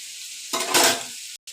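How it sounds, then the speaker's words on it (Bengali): Carrots frying in a pan, sizzling and hissing briefly as they are stirred, swelling louder for a moment before a sudden cut near the end. "গাজরটা দিয়ে এবার লাল লাল করে ভেজে নেব।"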